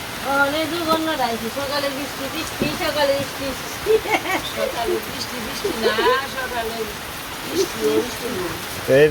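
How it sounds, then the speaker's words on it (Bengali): Steady morning rain hisses continuously during a rainy-day picnic, while people talk over it nearly throughout. "সকালে বৃষ্টি তো বৃষ্টি হইলো"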